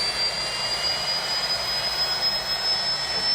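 A jet fighter engine roars in a continuous, loud, broadband rush with a thin high whine on top, steady throughout and heard alone.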